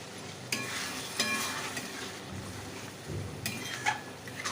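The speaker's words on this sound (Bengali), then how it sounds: "এরপর আমি সামান্য জল ঢেলে দিচ্ছি।" Water poured into a hot pan of egg tadka dal gravy, hissing and sizzling steadily with a few clinks of utensils, fairly close and with no talk.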